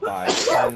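A single sharp sneeze bursts out mid-session during a tabletop role-playing game, close and loud, with a man counting aloud just before it.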